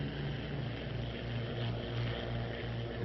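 A P-39 Airacobra fighter's engine drones in flight, a steady loud propeller hum with a low, even pulse and no voices.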